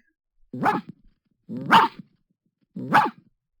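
A dog gives three separate deep barks, each about half a second long and spaced roughly a second apart, close and clear against silence.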